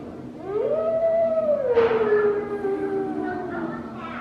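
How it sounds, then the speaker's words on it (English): A lone wolf howls in one long, clear wavering note that rises, holds and slowly falls, then trails into a softer second call, heard alone with no talking. "Recording of a single wolf."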